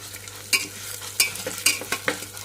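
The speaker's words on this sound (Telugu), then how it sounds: "ఇప్పుడు మనం ఇందులోనే పెసరపప్పు కొద్దిగా వేయించుకోవాలి." Mung dal fries with garlic tempering in a pan, giving a steady low sizzle broken by sharp scraping stirs of a spatula at irregular moments, close and alone with no voices.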